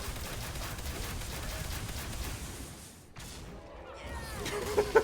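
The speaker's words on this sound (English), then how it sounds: "Let's just see them fireworks" Fireworks effect in the card game Hearthstone: a dense, continuous crackle of rapid pops and bursts, loud and steady, with a brief lull before the popping resumes.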